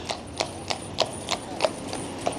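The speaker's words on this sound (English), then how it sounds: "The sound of Blackpool, the horses" Horse hooves clip-clop along a Blackpool street as landau carriages pass, about eight evenly spaced, fairly close strikes with a steady walking rhythm over low background street noise.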